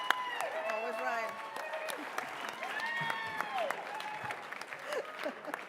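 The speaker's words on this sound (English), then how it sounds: "Would you also give a round of applause to Diana Ruiz, who is always right?" Audience applause at a charity auction, a scattered round of clapping from a crowd at moderate volume, running under a person talking.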